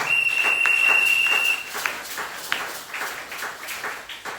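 Congregation applauding at a Sunday church service, a loud burst of clapping at first that thins to scattered claps and taps.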